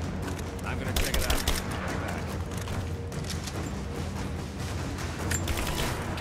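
Rapid, dense gunfire from a shootout in Rise of the Tomb Raider, a sustained fusillade of shots near and loud throughout, with voices calling out over it.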